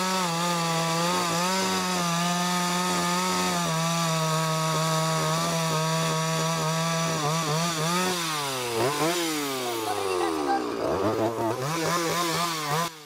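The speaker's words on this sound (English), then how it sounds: "1959 Stihl Contra chainsaw is working very well" A 1959 Stihl Contra chainsaw felling a tree, its engine roaring continuously and close, pitch steady at first and then rising and dipping repeatedly as the chain bites into the wood.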